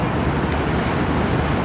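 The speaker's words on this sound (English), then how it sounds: "there's a whole flotilla of launches going up the river now." Motor launches in a flotilla heading up the River Thames, heard as a steady broadband rumble of engines and churning water mixed with wind buffeting the microphone, continuous and fairly loud.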